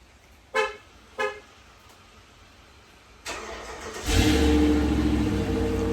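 An Electra truck with a side-exit exhaust and no resonator gives two short clicks, then the engine cranks and starts. It settles into a close, steady revving rumble that grows louder.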